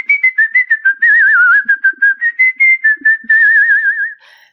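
One person whistles a lively tune alone, close and loud, in quick clipped notes broken by a few long warbling held tones.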